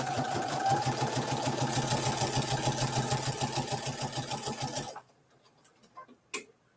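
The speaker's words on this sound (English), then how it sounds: "I am going to back stitch on this." A sewing machine back stitches through a Kimberbell June mini quilt with a fast, rhythmic, close mechanical chatter for about five seconds. It then stops, leaving a few faint clicks and a sharp tap.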